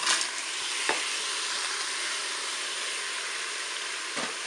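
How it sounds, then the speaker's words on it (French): Button mushrooms sizzle loudly in the browning mode of a Cookeo multicooker, a dense steady frying hiss with a few soft clicks of stirring, close by and without speech. "J'ajoute mes champignons de Paris"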